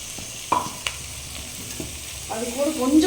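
Ground ginger, garlic and onion paste goes into hot oil for ghee rice, giving a soft sizzle with a few scraping stirs of a spoon, the frying swelling louder near the end.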